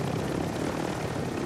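Helicopter in the video game Warzone, a steady loud rotor thrum and engine drone filling the whole moment with no talk.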